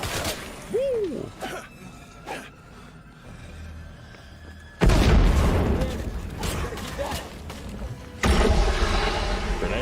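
Grenade blasts in the zombie survival game State of Decay 2, a loud boom bursting in midway with a second blast near the end, each followed by a rumbling tail, with earlier talk and game noise.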